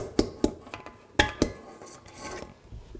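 Banana cupcake batter stirred in a bowl, with a few sharp utensil knocks against the bowl's side spaced through soft scraping and mixing, close and moderately loud.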